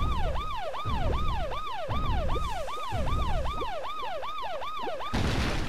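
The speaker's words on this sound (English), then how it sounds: "The siren in the background." A wailing siren in the Paper Mario: The Thousand-Year Door video game, rising and falling in a rapid, regular cycle about twice a second over low rumbling background sound, loud and continuous until it cuts off abruptly.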